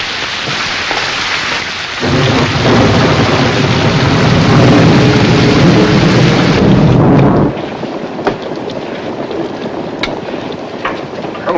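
A thunderstorm drums heavy rain down around a river boat, a loud dense roar that swells and then eases back to a steadier patter, with scattered drips and knocks standing out near the end.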